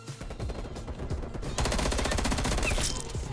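Rapid automatic rifle fire from an FFAR 1 in the shooter game Call of Duty Black Ops Cold War, a loud sustained burst of fast, even shots that grows denser partway through, with no talking.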